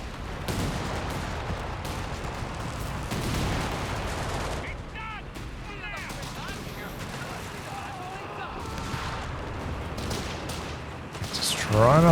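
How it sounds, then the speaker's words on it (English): Artillery barrage in Company of Heroes 3, a 2v2 World War II strategy match: repeated booming impacts and scattered gunfire cracks, some near and some distant, with a swell of explosions toward the end. "Drops the artillery on it."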